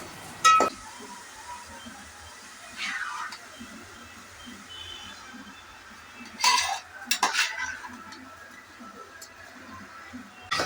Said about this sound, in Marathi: मिनिटभर मसाल्यामध्ये तांदूळ चांगलं परतून घेऊया